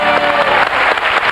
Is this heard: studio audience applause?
yes